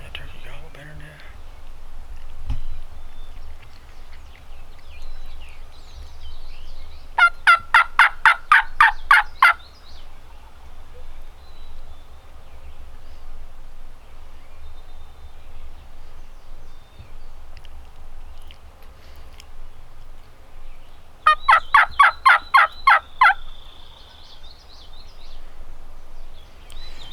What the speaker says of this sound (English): he's gobbling and you can barely hear him. He's low gobbling, he's low volume gobbling.